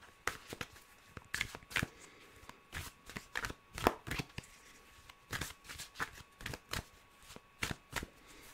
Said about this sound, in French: je vais retirer une autre carte.